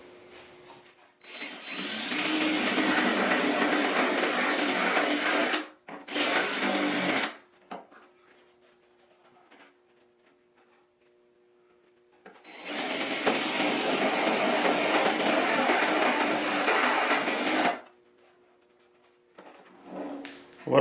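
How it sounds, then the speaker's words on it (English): A power drill bores out spot welds on a bent 1968 Mustang fender, loud whining runs of several seconds each, two long and two short, separated by near-silent pauses, close up with no talk. "I'm just going to, again, drill out these spot welds and try to separate everything."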